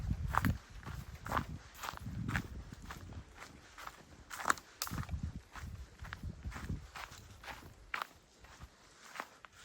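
Footsteps of someone walking deep into a forest, crunching steadily and fairly close in an uneven rhythm, with nobody talking.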